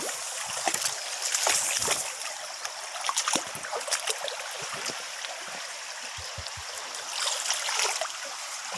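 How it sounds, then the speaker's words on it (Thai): A fast-flowing stream runs with a constant broad rush of water, close by, with occasional splashes and faint knocks. "ตรงนี้น้ำแรงมากครับ"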